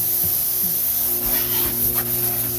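Water trickles slowly into a pond filter tank, a soft, steady hissing spray with faint gurgles and small knocks, close by and without talk.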